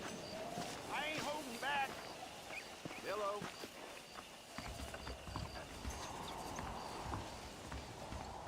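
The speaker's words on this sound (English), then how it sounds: "Agora estão 2 cavalos." Horse hooves clip-clop in Red Dead Redemption, a quick rhythmic patter of steps with a voice talking over parts of it.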